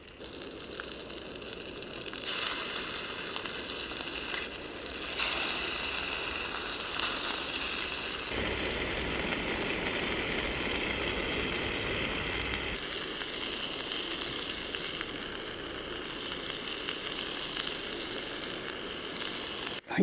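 Bombay chicken kebabs with mushrooms sizzle in a GSI 8-inch pan on a camp stove outdoors, a steady hissing fry that swells and shifts in intensity over twenty seconds, close-up with no voices.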